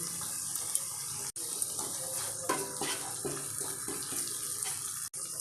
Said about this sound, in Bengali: দিচ্ছি সামান্য পরিমাণে জল নাহলে মশলাগুলো পুড়ে যেতে পারে